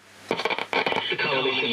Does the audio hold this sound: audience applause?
no